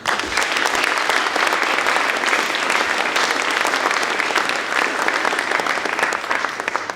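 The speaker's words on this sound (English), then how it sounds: "let's give a round of applause to our host tonight" An audience at a city arts awards evening applauds the host, a loud, sustained roar of many hands clapping that stays full and even before tapering slightly at the end.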